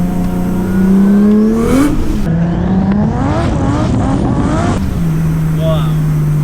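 A 700 BHP Nissan Skyline R33 engine pulls hard through the gears, loud rising revs broken by shift gaps, with people speaking over it.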